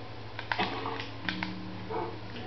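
A Minecraft dog on Xbox barks and yips a few times in quick bursts over a steady electronic hum, the sounds thin and slightly synthetic.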